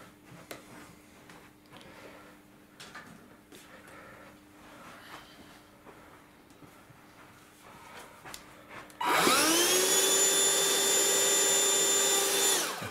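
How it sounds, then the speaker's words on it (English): A Hoover vacuum cleaner switches on after quiet scraping and handling noises, then runs with a loud steady whine while sucking up solder filings near model railway track. "What you do is you get your Hoover."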